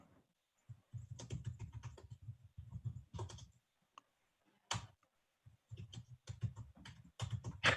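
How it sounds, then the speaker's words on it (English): Bursts of rapid keyboard typing, clicky keystrokes in uneven clusters separated by short pauses, close and fairly quiet. "Now we're just listening to you bang away on the keyboard"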